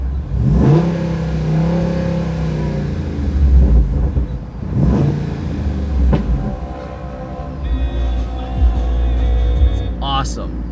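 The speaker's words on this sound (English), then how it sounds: "just listen to this exhaust" A 392 engine revs and roars through its exhaust in bursts over a steady low rumble, loud and close, with rising and falling pitch sweeps.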